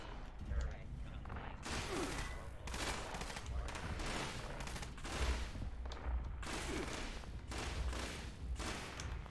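Gunfire in the video game Fallout 76: repeated bursts of loud shots in quick rapid-fire clusters, spaced a second or so apart, dense and punchy throughout.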